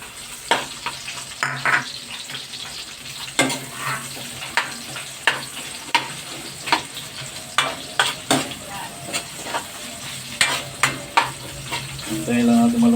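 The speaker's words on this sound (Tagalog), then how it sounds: "Hintayin lang natin maluto yung sibuyas bago natin lagay yung isaw." Onions frying in a pan for adobong isaw, with a steady sizzle broken by repeated scraping stirs of a utensil at a regular rhythm, heard up close and loud.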